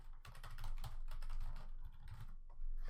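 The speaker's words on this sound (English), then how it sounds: "just type out our text" Rapid, uneven keystrokes rattle on a computer keyboard as text is typed in bursts, close and clear, with short pauses between runs of clicks and no voices.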